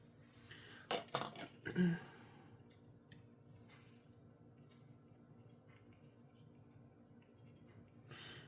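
Fountain pen laying down Birmingham Pen Company Water Bear ink on paper: a few sharp taps and scrapes near the start, then a faint, quiet scratch against low room noise.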